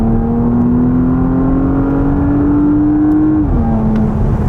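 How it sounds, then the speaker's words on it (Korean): A Porsche Panamera 4 Executive with its sport exhaust active in manual shift mode drones steadily, pitch rising slowly then dropping as revs ease, heard loud and continuous from inside the cabin with no talking. "지금도 배기 시스템 활성화해서 패드 시프트에 놓고 좀 활용을 해보도록 할게요"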